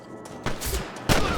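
A gunshot in Red Dead Redemption: two sharp broadband blasts a half-second apart ring out over a steady game backdrop, each followed by a brief roar.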